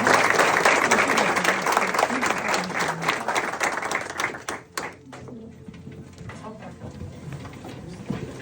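Loud, dense applause from a church congregation, steady at first, then thinning into scattered claps with faint voices underneath.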